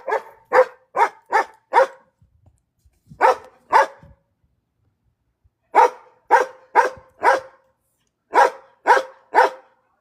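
Dogs bark in short sharp bursts, loud and close, in groups of four or five with pauses between them and faint low thumps in the gaps.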